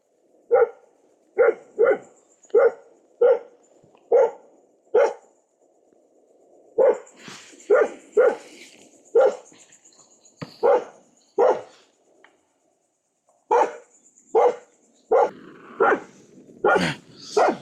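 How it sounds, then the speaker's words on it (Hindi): A dog barks at night in a jungle camp, close and loud, in repeated sharp bursts, sometimes single and sometimes doubled, with short silent pauses between runs and no talking. "कुत्ता भौंक रहा है।"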